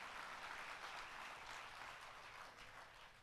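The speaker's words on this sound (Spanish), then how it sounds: "Si quiere dar un aplauso al Señor, déselo más fuerte" An audience in a church applauds continuously, a dense, even wash of many hands clapping that slowly fades toward the end, with no voices on top.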